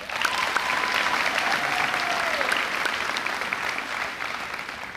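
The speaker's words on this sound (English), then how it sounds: "one more round of applause" Applause from the audience at the Mattituck High School Class of 2025 graduation ceremony, dense sustained clapping throughout that eases slightly near the end, with no talk.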